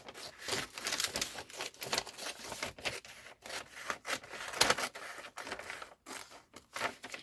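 Scissors cut through thin paper at close range in repeated snipping and rustling strokes, uneven and scratchy, with no talk over them.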